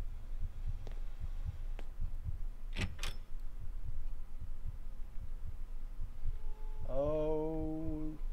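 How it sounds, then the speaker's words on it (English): A muffled, steady heartbeat thumps low and close in the horror game Araya, looping against a dark ambient hum, with a couple of sharp transient hits and a rising tonal drone near the end. "the heartbeat in my ear is not helping the situation here"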